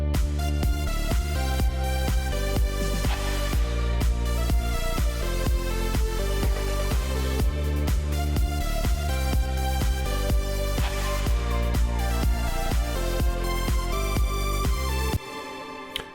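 Drop of an EDM track, remade with stock plugins: a loud, dense, continuous mix of punchy kick, heavy bass and bright lead synth driving steadily for about fifteen seconds before cutting off abruptly.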